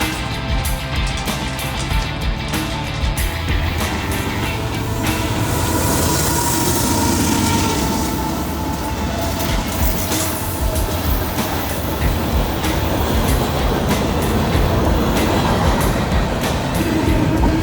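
A freight train led by a switcher engine and three locomotives rolls past, loud and near, with a continuous rumble, wheel clatter and faint squeals throughout.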